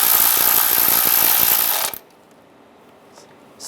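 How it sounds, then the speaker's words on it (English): A ratchet rapidly clicks as it tightens an ignition coil bolt on a 2012-2017 Toyota Camry, loud and close for about two seconds before stopping abruptly into near silence. "Put the bolt in, and we'll tighten that down."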